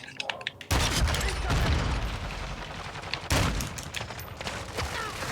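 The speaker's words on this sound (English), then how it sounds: "I'm taking enemy fire." Gunfire in the video game Modern Warfare II, a few sharp clicks giving way to dense, loud bursts of rapid shots and impacts that ease off briefly, then surge again.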